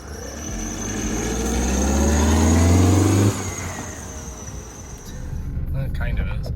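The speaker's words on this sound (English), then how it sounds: "Goes into drive and the revs go down pretty low and it just vibrates." A Mercedes C230 Kompressor engine runs close by, its low drone swelling for about three seconds and then dropping away as the car goes into drive, leaving a rough, low, vibrating idle.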